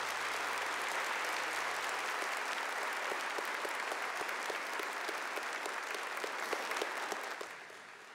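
A church congregation at a Catholic Mass applauds in a sustained, dense wave. A few sharper claps stand out, and the applause fades slightly at the end.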